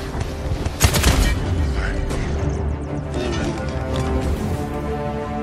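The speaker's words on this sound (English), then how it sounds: "They're firing on me." Gunfire and explosive booms in the online shooter Paladins during a siege match, dense and loud with a busy mix of shots, impacts and game effects throughout.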